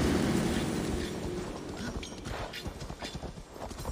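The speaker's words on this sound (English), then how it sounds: "Pushing this horse to its limits." Galloping horse hooves in Assassin's Creed Valhalla, a steady rapid clip-clop of a ridden horse pushed at full speed, loud and continuous under a dense wash of game ambience and wind.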